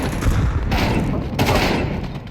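Rapid shotgun blasts in a competitive first-person shooter round, two loud bursts with rumbling echo close to the player, with team callouts faintly under them.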